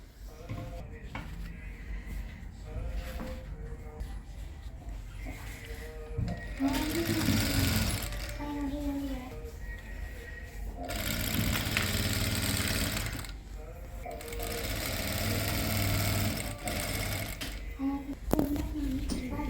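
A sewing machine stitches elastic along the waistband of straight palazzo trousers, running in steady mechanical bursts with pauses, close by, while someone talks at times between stitching runs.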